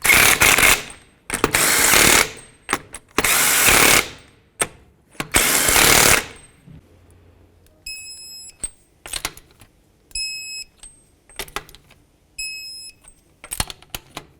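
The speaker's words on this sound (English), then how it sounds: "Start on all 5 of your lug nuts, snug them up, and then I'll torque them to 80 foot-pounds." Power tool snugging up the lug nuts on a 2005-2007 Nissan Murano wheel: several loud, long buzzing bursts early on, then shorter intermittent bursts mixed with high beeping tones, no talking.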